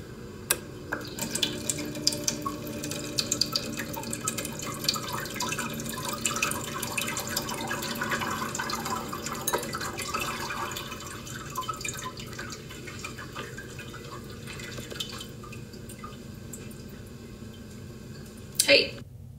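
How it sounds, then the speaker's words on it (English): A small Arduino-controlled water pump runs, sending water into an empty plant pot, a trickling, dripping splash under a faint motor hum that stops near the end with a brief clatter; no one talks. "The pot is empty so that the water can be seen running when the pump turns on and off."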